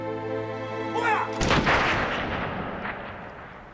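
A firing squad's rifle volley in a wartime German execution scene at dawn in 1943 cracks out as one sudden loud blast that cuts off sustained music and leaves a long reverberant tail fading over several seconds.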